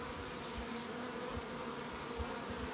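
Honey bees in a nuc colony drone in a dense, steady buzz, close and even throughout, with faint low thumps beneath.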